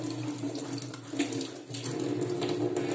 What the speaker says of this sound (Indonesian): Aku cuci tangan dulu.